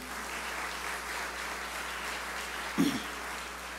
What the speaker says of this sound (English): could you give them an applause